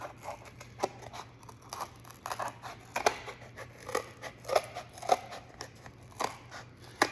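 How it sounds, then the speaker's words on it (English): Scissors snip steadily through a paper template along a drawn line for a coil pot, a close, quiet run of crisp repeated cuts with soft paper rustle and no talk. "So I'm gonna cut out along my line."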